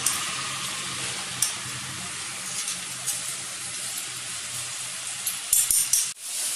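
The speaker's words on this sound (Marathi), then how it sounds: "आपण हा हलवून घेऊया छान, म्हणजे त्या तांदळाला पण सगळं मसाला पण छान लागतो आणि तांदूळ परतल्या जातो आपला।" Washed rice stirred and sautéed in a spiced pan for dagacha bhaat, a steady hissing sizzle under occasional spatula scrapes, with a few louder clatters toward the end.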